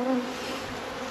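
Honey bees buzz close by at an open hive, a dense steady drone with one louder bee passing near at the start.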